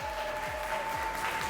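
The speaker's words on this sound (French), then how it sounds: "on va juste demander au public des tonnerres d'applaudissements pour les 2 teens ce soir" Soft, steady applause from an audience at a CrossFit Open 18.2 competition in Reunion Island, cheering on two teen athletes before their workout, heard somewhat faint and distant under a faint steady tone.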